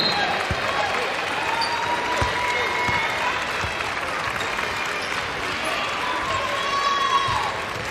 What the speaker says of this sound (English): allow them to get a round of applause from the folks who've made the trip here to Massachusetts from Central Jersey